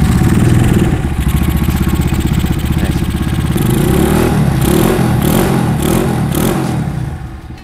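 Custom-built motorcycle with a small Royal Enfield-style smooth exhaust, its engine running loud and close with a rapid even putter, some throttle variation and clattering midway.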